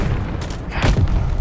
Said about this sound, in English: Throwing a sticky bomb.